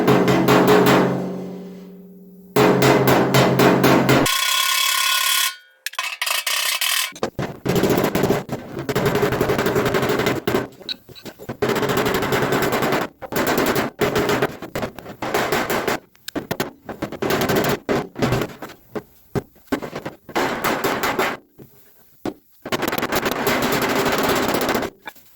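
Cross peen hammer striking a metal body tub during shrinking and contouring, rapid rattling runs of close, sharp metallic blows broken by brief pauses, loud and dense over a long stretch.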